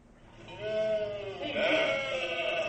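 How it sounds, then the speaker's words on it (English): Sheep bleat in a long, wavering, nasal call that swells and holds for a couple of seconds, close and prominent, in a staged Christmas program. "How about some sheep?"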